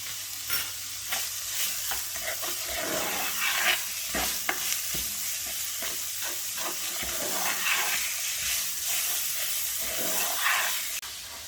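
Onions sizzling in a pan with salt, a continuous close hiss and crackle broken by repeated spatula stirring scrapes and knocks throughout.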